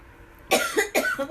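One person coughs three or four times in quick succession, close and fairly loud, after a moment of near quiet.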